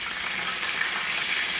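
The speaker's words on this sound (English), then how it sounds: "So, well, that's frying." Pork chops sizzle steadily in a hot pan, a close, continuous crackling hiss with no talking.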